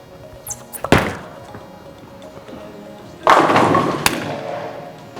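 A bowling ball thrown down a lane: a sharp thud near one second as it lands and rolls, then around three seconds a loud, broad crash of pins scattering that lingers and decays, with a second impact just after.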